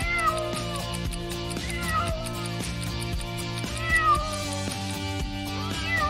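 A cat meows several times over steady background music and rhythmic beats in a kids' logic riddle segment, the mews fairly faint and partly masked by the music.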